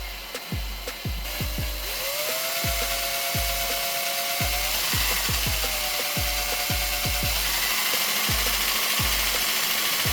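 A handheld power drill spins up with a steady whine that rises and holds, twice in a row, with sharp rhythmic ticking beneath it, loud and close.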